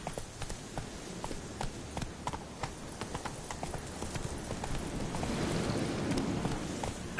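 Roach the horse in the Witcher 3: Wild Hunt video game trots with a steady, quick clip-clop of hooves, moderately close, over a rain-like wash that swells toward the end.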